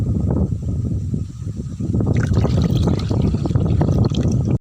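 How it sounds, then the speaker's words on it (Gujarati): Water pours and splashes steadily into a bird water trough on a farm, growing brighter and fuller partway through, with no voices. "અને હવે આ પક્ષીઓને પાણીનું કુંડ ભરી દઈએ"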